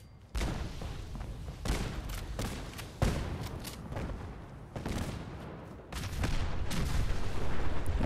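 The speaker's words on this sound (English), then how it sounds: "there's a fireworks show." A rapid string of loud bangs and pops from a tripwire-triggered fireworks trap in Fallout 4 bursts out one after another, echoing booms layered over a crackling rumble that builds toward the end.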